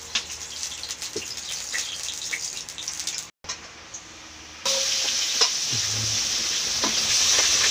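Pieces of river aair fish frying in hot oil in a wok, a steady loud sizzle that briefly cuts out, then returns louder and denser, with occasional stirring clinks.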